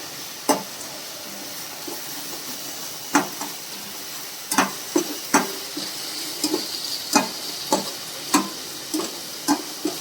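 Masala sizzles in oil while a spoon stirs and scrapes the pan in an irregular rhythm of close clinks, cooking down for a Bengali doi katla (rohu fish in yogurt gravy).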